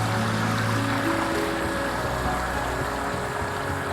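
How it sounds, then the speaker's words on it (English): Rushing waterfall in the video game Fable The Lost Chapters, a loud, constant broadband roar of falling water with a faint tonal hum beneath, steady and unbroken throughout. "I don't know why the waterfall is so much louder than everything else."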